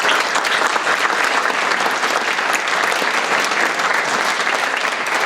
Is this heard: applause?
yes